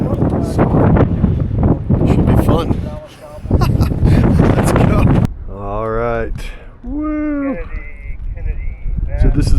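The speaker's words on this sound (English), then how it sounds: "It is crazy windy, not super ideal, and raining very lightly right now." Strong gusty wind buffets the microphone outdoors at a ski area on a lightly rainy day, a loud continuous roar that drops out briefly, with a person talking over it.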